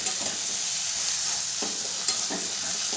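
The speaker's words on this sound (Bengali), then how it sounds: "মশলার সাথে আলুটাকে আমি খুব ভালো করে কষিয়ে নেব" Boiled potato is sautéed with spices in a pan over a medium-low flame for an aloo paratha filling, with a continuous close sizzle broken by repeated spatula stirs and scrapes.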